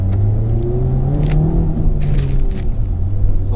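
A 2018 Hyundai i20 Active petrol engine starts, rumbles and revs up, pitch rising steadily as it accelerates, close by and steady throughout.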